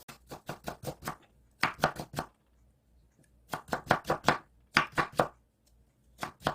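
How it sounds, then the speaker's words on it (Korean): A knife thinly slicing carrot on a cutting board for jellyfish salad, heard alone as close, crisp bursts of rapid chops in quick runs of four to six strokes, with short pauses between runs. "이렇게 해서 당근도 다 썰었습니다"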